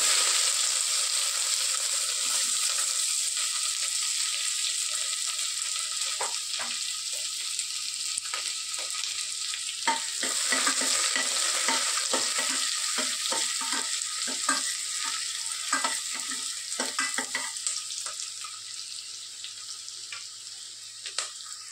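Sliced onion fries in very hot oil with whole spices (bay leaf, cinnamon, cloves, green and black cardamom) in a pan, making a steady loud sizzle broken by repeated scraping stirs and clinks, with no talking.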